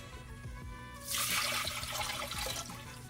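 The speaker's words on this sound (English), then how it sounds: "then we'll just go straight to adding water" Water pours steadily into a bowl of rice for cilantro lime rice, a close splashing rush that starts abruptly and continues with bubbling, with no talk over it.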